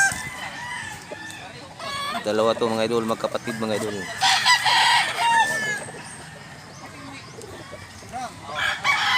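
Chickens and roosters of the blue-legged and green-legged kinds at a fowl sale in Mantalungon, Cebu, clucking and crowing in bursts close by, with someone talking over parts of the calls.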